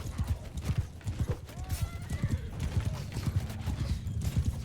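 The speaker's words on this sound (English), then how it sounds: "where did these looters get all these horses?" Horses gallop in the game Mount & Blade II: Bannerlord, a steady run of close hoof clip-clops with a whinny or two among them, loud and continuous, with no talking.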